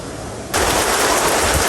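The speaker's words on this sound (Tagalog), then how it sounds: "Grabe, umula na po ng malakas." A steady hiss suddenly swells into a loud, dense roar of heavy rain pouring down, continuing without a break.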